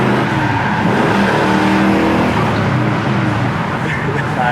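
A 1966 Chevelle's engine drones loud and steady from inside the car while driving, a deep continuous rumble with a faint whine layered on top.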